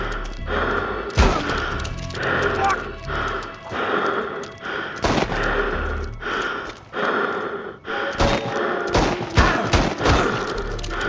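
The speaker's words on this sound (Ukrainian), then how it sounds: "Треба прицілити, щоб стріляти." Loud, booming revolver gunshots fire repeatedly over a dense soundscape in the video game Chernobylite 2: Exclusion Zone, several sharp blasts spaced irregularly through the clip.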